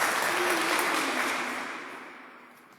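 Applause for prayer leaders at a church prayer gathering, a broad wash of clapping from the congregation that starts full and steadily fades out toward the end, with no talk over it.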